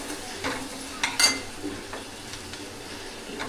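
Onions softening in a pan for kanda poha, stirred with a utensil: a soft, steady sizzle with a few scraping clinks of metal against the pan, close by and without talk.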